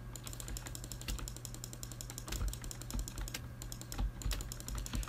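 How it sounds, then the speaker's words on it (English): Rapid clicking at a desk while playing The Forest on PC, steady rattly clicks from a mouse and keyboard close to the mic, running continuously with no talking. "Sorry if you can hear my mouse clicking"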